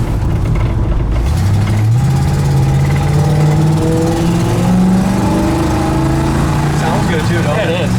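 A 1967 Chevy C10 pickup truck engine runs steadily near at hand, its low hum climbing and settling in pitch as it revs gently, with people talking over it.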